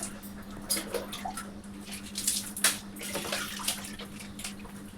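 Water runs from a tap for washing the face, a soft continuous flow with scattered splashes and drips, faint and fairly close, with no talk over it.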